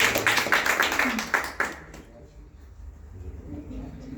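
A youth group at a Christian youth meeting claps for a young participant. A brief burst of rhythmic hand claps lasts under two seconds, then gives way to quiet room tone.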